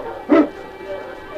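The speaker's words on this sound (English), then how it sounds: "On, King! On, you Huskies!" A single short bark from a husky sled dog, close and fairly loud, over a low steady background hum.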